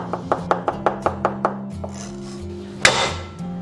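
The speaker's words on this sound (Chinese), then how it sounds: "然后切成蒜末" A knife finely chops crushed garlic on a board, about nine even, crisp strokes in a row, followed by a brief scrape and clatter, close up.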